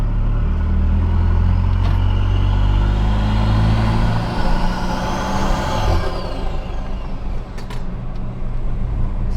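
A car engine with a snorkel intake fitted revs hard on a dyno, a loud sustained roar with a rising whine that peaks and falls away into lower idle-like rumble.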